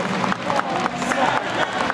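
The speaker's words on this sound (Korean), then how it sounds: "자, 다시 한번 박수 부탁드릴게요" A basketball arena crowd applauds the KT players at a Suwon KT game, a dense, steady wash of clapping and cheering that holds at an even level for the whole stretch.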